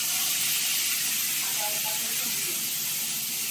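Ginger and green chilli paste hits hot oil seasoned with panch phoron and bay leaf, giving a steady, dense sizzling hiss that holds close and loud for the whole stretch.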